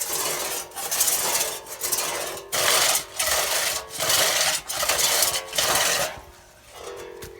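A two-man saw pulled through timber in a timber framing shop, cutting cleanly and throwing out sawdust, with a steady series of rasping strokes about one per second, close and moderately loud.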